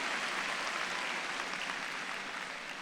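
Sustained applause from a big commencement audience honoring graduates and undergraduates, a thick, even roar of many hands clapping at once that tapers only slightly toward the end.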